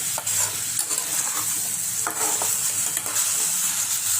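A spiced mixture of boiled potatoes is stirred and fried in a pan, with a steady close sizzle and repeated scraping strokes of the spoon, no voices.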